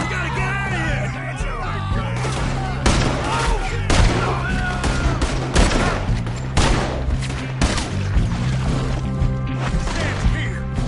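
Rapid gunfire during a Saint Denis shootout in Red Dead Redemption 2, loud repeated shots and bursts crackling over a droning musical score, with shouting voices mixed in.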